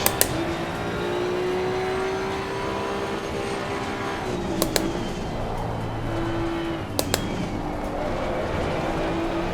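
A damaged Maserati GT2 race car in Assetto Corsa Competizione drones steadily at high revs, its engine note holding and dipping through gear changes, with a few sharp clicks cutting in.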